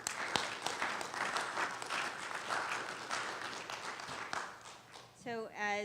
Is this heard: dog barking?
no